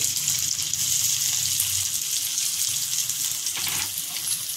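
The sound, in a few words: onions frying in oil with curry leaves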